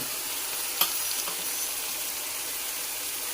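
Spices and turmeric hitting a hot pan of fish curry base give a steady bright sizzle, with one sharp tick and a few faint stirring scrapes, no voices.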